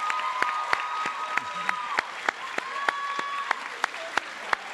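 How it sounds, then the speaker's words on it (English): Audience applause for graduating seniors at a high school music awards, a steady wash of many hands with sharp individual claps popping out near the microphone throughout, fairly loud and with no talking over it. "Let's give a big round of applause for all of them."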